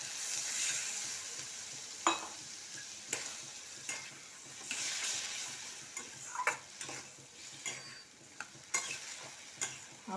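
Bottle gourd curry with pineapple sizzling in a pan as it is stirred, a steady fry hiss broken by scattered sharp scrapes and taps of the spoon, close and fairly quiet, no voices.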